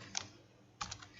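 Two brief bursts of computer keyboard typing while a C program is entered, a short clatter of keys, a pause, then a longer run of quick key presses, close and fairly quiet with no talk.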